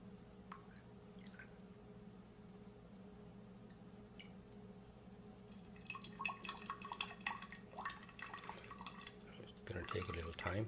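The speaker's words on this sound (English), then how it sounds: "We will fill the water beyond the overflow, let the water drip out." Water overflows and drips from a displacement overflow can in a classroom density experiment, giving a faint background trickle with scattered drips that grow busier toward the end. A steady hum runs underneath.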